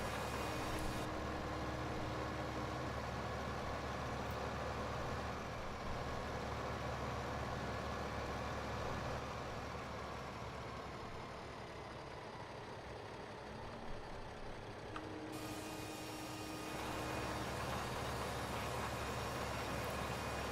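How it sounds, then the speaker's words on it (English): A tractor in Farming Simulator 15 drones and strains as it pulls a Vaderstad seed drill. The low engine rumble runs steadily with no speech, dipping slightly midway before resuming at full load. "See, this tractor is struggling with this Vaderstad."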